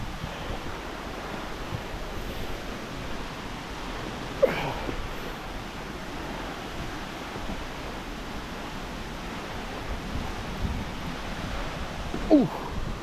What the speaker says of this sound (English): the wind coming off where that water's just hitting those rocks